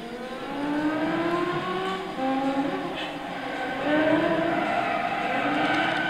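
Lamborghini Murcielago LP-640 6.5-litre 48-valve V12, mid-mounted with all-wheel drive, lapping the full Suzuka circuit in Gran Turismo 6, its engine note rising and falling steadily through gear changes, loud and continuous with no talk.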